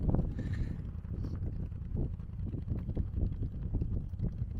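Wind buffets the microphone at the high summit of Cinnamon Pass in Colorado, a steady low rushing roar with gusty swells throughout and no speech.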